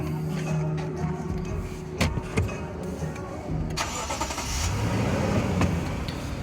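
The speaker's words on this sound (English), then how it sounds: "So watch what happens when we start the motor up." A Lexus GX460 engine starting, with a sharp crank and catch followed by a steady idle and a rise in revs, recorded fairly close.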